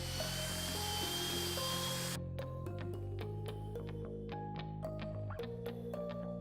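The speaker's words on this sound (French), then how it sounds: "Mélangez la préparation avec un malaxeur à perceuse jusqu'à ce qu'elle soit homogène et lisse." A power drill with a mixer paddle whines at a steady pitch, changing tone as the paddle churns thick tile adhesive, with scraping clicks and taps throughout.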